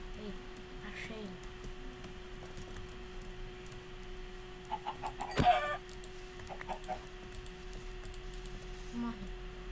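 Soft Minecraft chicken clucks come in short bursts, with one louder squawk midway, over a quiet hum and faint game ambience.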